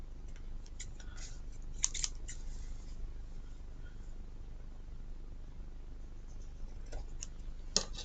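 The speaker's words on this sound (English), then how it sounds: "And I'm just gonna angle cut my ends." Scissors make a few quiet, crisp snips as the ends of craft paper or ribbon are angle-cut, with short clusters of cutting sounds around the two-second and near-eight-second marks in an otherwise quiet room.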